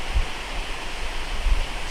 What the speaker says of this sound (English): So, here we are at Roos Falls. Beautiful little waterfall.